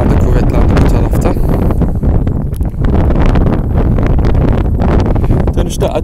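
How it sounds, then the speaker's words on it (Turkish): Strong, gusting wind buffeting the microphone during a DJI Phantom 3 drone flight: loud, rough blustery rumble that surges and dips continuously, with a voice talking faintly underneath. "rüzgar da bir anda şu anda kuvvetlendi bu tarafta"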